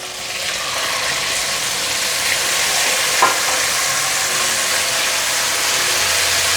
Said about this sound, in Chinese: 杏鲍菇稍微翻炒一下，它就会分开了。